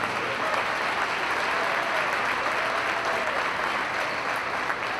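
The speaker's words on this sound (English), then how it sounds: "let's give another round of applause for this year's Taylor University men's basketball senior class" Sustained audience applause fills a basketball arena during a senior recognition ceremony for a university men's basketball class, a dense, steady wash of clapping from a large crowd throughout.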